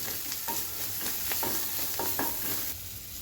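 Coriander, mint and turmeric frying and being stirred in a pan, with rhythmic scraping stirs over a continuous close sizzle.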